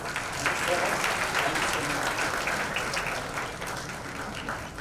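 An audience at a star-studded award event breaks into loud, sustained clapping that gradually tapers off, with voices mixed into the applause.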